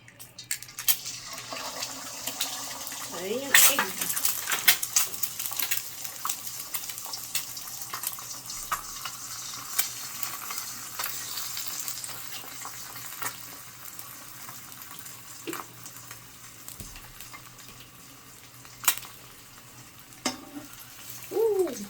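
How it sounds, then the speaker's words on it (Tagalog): An egg frying in a hot 32cm non-stick wok pan, with a steady close sizzle and crackle throughout, plus occasional clinks and stirring noises. "Kaya naman, try na nating mag prito ng egg."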